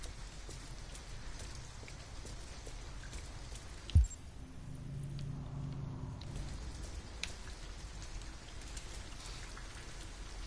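Steady rain falls in the Detroit: Become Human video game, a continuous soft hiss of drops on surfaces throughout, with one brief thump partway through and no talk.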